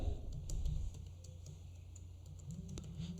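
Typing on a computer keyboard, soft rapid key clicks in an uneven run, fairly quiet and close, with no talking.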